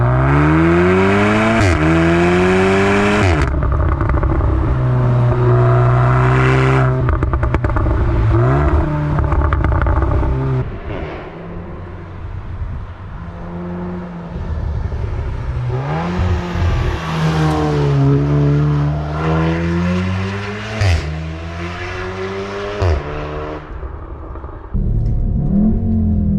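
A car speeds past along a roadside, its engine revving up and falling in loud, rising and sweeping passes, with a quieter dip in the middle before the roar returns.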